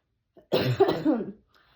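A woman with a respiratory infection coughs, one harsh, loud fit of several rough bursts lasting about a second, close and alone.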